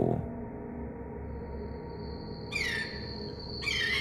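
Loud bird calls from a large yellow-eyed bird with a long, sharp beak, heard at night in a rural village horror setting; two harsh bursts ring out against a steady background hum, with a thin high tone held between them.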